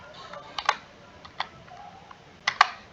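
Sparse keyboard clicks while typing Java code, a few isolated close keystrokes and small clusters with quiet pauses between them, no talking.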